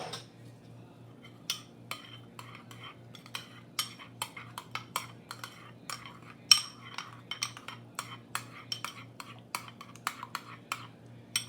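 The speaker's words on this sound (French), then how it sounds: "Je mélange le tout." A spoon clinks and scrapes against a bowl while tomato sauce is mixed with pizza spice and garlic, giving a quick run of light metallic ticks over a faint steady hum, close and fairly quiet.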